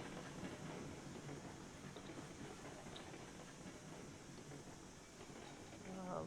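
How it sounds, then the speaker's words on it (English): A steam train runs in the Railroads Online video game, a steady rumbling chug with hiss and wheel clatter that carries on unbroken, with faint voice-like sounds mixed in. "I'm having fun just running the train"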